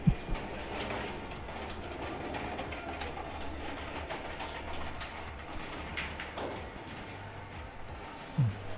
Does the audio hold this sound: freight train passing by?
yes